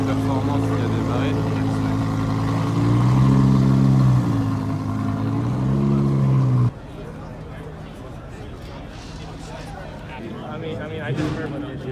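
Supercar engines rev at a Pagani and Koenigsegg car meet, a loud, close engine tone rising and falling in pitch over several swells before cutting off abruptly, followed by quieter crowd chatter and background noise.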